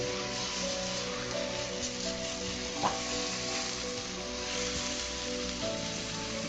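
Pork curry masala with tomatoes sears in a pan over a high flame, giving a steady, loud crackling sizzle throughout, with one sharp tap of a utensil midway and no talking.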